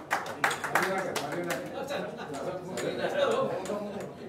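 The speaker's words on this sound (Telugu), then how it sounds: "మీ చప్పట్ల ద్వారా ఆమోదం తెలపాల్సిందిగా" Scattered clapping and light applause rise from an audience at a Telugu literary meeting, mixed with a voice speaking over the hall.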